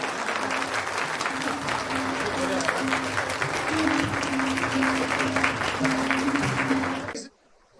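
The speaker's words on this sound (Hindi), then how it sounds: "जोरदार तालियां।" Loud, sustained audience applause in a hall welcoming a government defence minister at a public event, a dense continuous roar of clapping with a low hum beneath, cutting off abruptly near the end.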